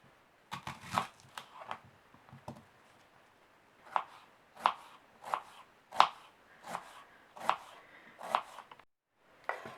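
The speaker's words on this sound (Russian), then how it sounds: "Теперь будем резать лук полукольцами." A knife chops an onion into half rings on a cutting board, quick clusters at first, then a steady run of crisp strokes roughly every half second, near and fairly quiet.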